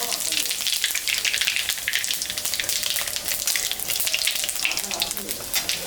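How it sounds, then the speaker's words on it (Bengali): Dried chillies, nigella and cumin crackle and sizzle loudly in hot oil left from frying fish, a dense, continuous spitting hiss close by, held steady throughout. "এখন আমি শুকনো লঙ্কা, কাঁচা কালো জিরা আর জিরা সম্বরা দেব।"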